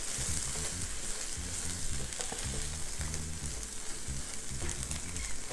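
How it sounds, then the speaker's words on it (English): Rice frying with an onion mixture in a pot on a stovetop for jollof rice makes a close, steady sizzle with soft crackles and occasional stirring scrapes, continuous and without talk. "allow the rice to toast up"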